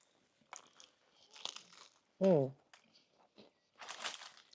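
A single loud, crisp crunch as crunchy battered fish is bitten, with quieter chewing and rustling around it.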